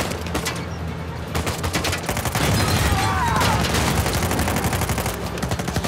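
Loud, dense gunfire in the game Uncharted 4 rattles almost continuously, with bursts of rapid shots and booms layered together, and a voice talks through part of it.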